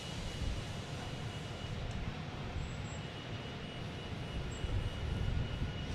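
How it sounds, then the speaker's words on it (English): The new Alaska Airlines Boeing 787 gives a distant, even jet rumble, a dull continuous drone that swells slightly near the end, heard alone without talk. "There is the new Alaska 787."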